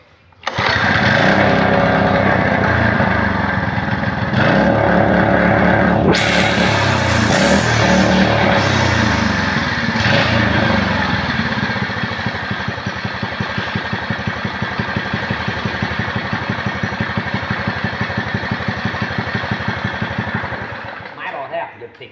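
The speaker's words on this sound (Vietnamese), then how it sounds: "test máy nổ một cái cho bà con tham khảo" A used Japanese petrol engine runs on a test, its loud steady mechanical drone pulsing evenly close by for about twenty seconds before cutting off; someone talks briefly over it.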